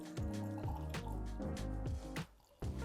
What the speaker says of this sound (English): And lastly, one more nice little pour right here.